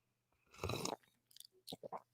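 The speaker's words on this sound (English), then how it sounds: "Thanks for listening to my slurp." A close, wet slurp of coffee at a table, one longer noisy draw followed by a few short sips and lip smacks, with no talking.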